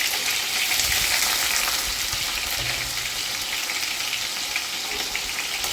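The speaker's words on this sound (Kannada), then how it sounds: "ಕಡಾಯಿ ಹೀಟ್ ಆದಮೇಲೆ ಅದಕ್ಕೆ ಆಯಿಲ್ ಹಾಕಿ ನಮ್ಮ ಪನ್ನೀರ್ ಪೀಸ್ಗಳನ್ನು ಇಲ್ಲಿ ನಾನು ಫ್ರೈ ಮಾಡ್ಕೊಳ್ತಿದ್ದೀನಿ." Paneer pieces shallow frying in hot oil in a kadai give a steady, close sizzle with soft crackles and a brief stir partway through.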